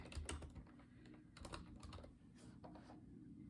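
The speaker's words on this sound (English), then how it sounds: "Try to type quicker here." Quiet typing on a computer keyboard: a rapid, irregular run of soft key clicks heard close by.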